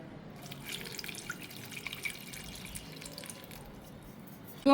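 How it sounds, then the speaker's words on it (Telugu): Water trickling and splashing into a container, a steady light pour with drips, fairly quiet, ending in a sudden louder clatter. "ఇప్పుడు నీళ్ళు పోసుకోండి"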